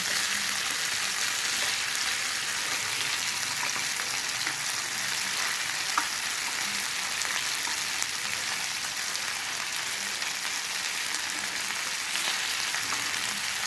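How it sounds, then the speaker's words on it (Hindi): Tandoori fish grilling over a high flame gives off a steady, dense sizzle that runs unbroken throughout, fairly loud and close with no talking. "फुल आंच पे मैं इसको ग्रिल कर रही हूँ"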